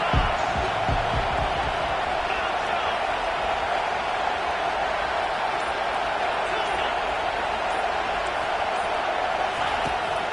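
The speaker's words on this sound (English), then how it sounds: "Decibels rising as the crowd gets behind this defense on 3rd down." A college football stadium crowd at Missouri versus Ole Miss roars on a defensive third down, making a dense, loud, sustained wall of noise that holds steady throughout.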